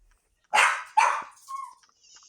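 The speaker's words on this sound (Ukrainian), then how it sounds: "Все гавкає і гавкає." A dog barks several times in quick succession, close and loud, ending with a short yip, in a quiet indoor space with no talking.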